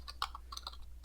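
Someone types a short message into the editor of a SNEED-JET Infinity inkjet printer, making a few quick, soft key clicks close by in a quiet room.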